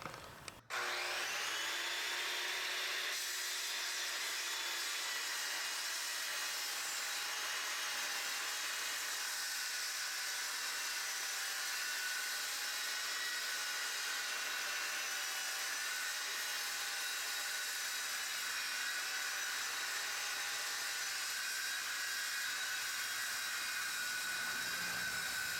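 A homemade portable saw sawmill rips a wooden board into strips, a loud steady whine of the running blade held for over twenty seconds, its pitch wavering slightly as the board is pushed through.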